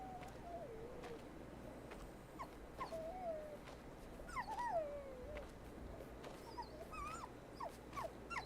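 A dog in the horror video game Maid of Sker whimpers and whines in rising, wavering cries, repeated at intervals over a low ambient drone.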